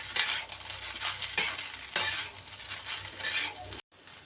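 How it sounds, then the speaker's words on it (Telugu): Egg fried rice seasoned with pepper and salt is stirred in a pan, with repeated scraping and tossing strokes over a soft sizzle, each stroke a bright swish, before an abrupt cut to quiet. "ఇప్పుడు బాగా మిక్స్ చేసుకోవాలండి రైస్."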